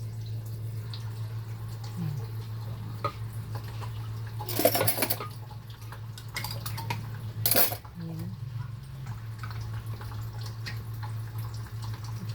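Ingredients are rinsed in a pot, with gentle water sloshing and a couple of louder clatters of metal and dishes over a steady low hum, quiet and close.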